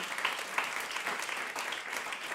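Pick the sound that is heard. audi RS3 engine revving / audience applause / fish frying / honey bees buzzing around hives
audience applause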